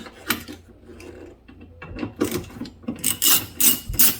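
A T50 Torx tool working on a seat belt bolt in a Ford Ranger, with close ratcheting clicks and metallic rattles in short irregular bursts, growing louder and busier toward the end.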